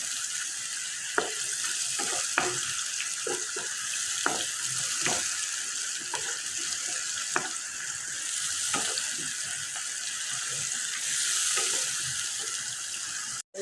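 Chopped onion frying in oil for a quail roast makes a constant close sizzle, broken by repeated scraping knocks from a stirring spoon against the pan.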